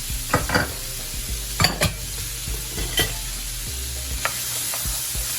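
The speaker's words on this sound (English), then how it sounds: "we're just going to mix all these colorful ingredients together" Chopped cucumber, cilantro, jalapeno and scallion being stirred together in a bowl, repeated close scraping and tapping of a utensil over a steady background hiss.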